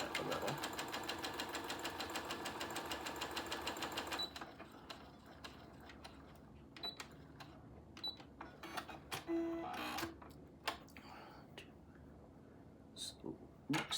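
A home sewing machine runs steadily while stitching a quarter-inch quilting seam for a cow head appliqué, a dense rapid whir for about four seconds before stopping, followed by scattered clicks and handling noises with some talk.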